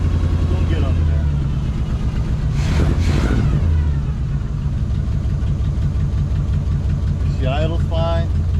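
Car engine idling steadily after a Quadrajet carburetor rebuild, a continuous low rumble with a faint knock throughout, and someone speaking over it partway through.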